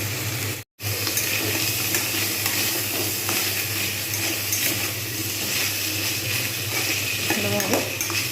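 Capsicum and potato pieces stirred in a pan, a continuous close hiss of cooking with faint scraping strokes, brief dropout near the start, a little faint voice late on.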